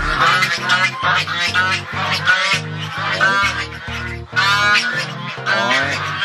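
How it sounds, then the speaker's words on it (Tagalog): Geese honk loudly and repeatedly at close range in a garden farmyard, overlapping calls forming a continuous, raucous chorus. "Ito, malalaki, mga gansa."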